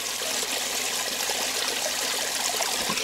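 Mountain stream flowing through a canyon, steady broadband rushing and trickling water, close and continuous with no talking.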